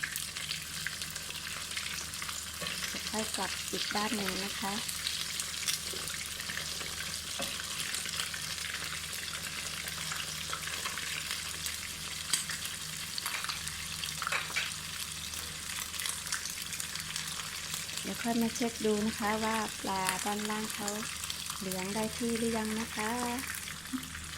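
Fish fries in hot oil with a loud, even crackling sizzle that runs throughout, close by, while someone talks at points over it.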